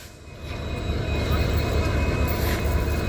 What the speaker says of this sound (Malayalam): സോ പറഞ്ഞ പോലെ തന്നെ നമ്മുടെ ലോക്കോ വന്നിട്ടുണ്ട് ഇവിടെ ഈ സൈഡ് അറ്റാച്ച് ചെയ്യിപ്പിക്കാൻ വേണ്ടിയിട്ട്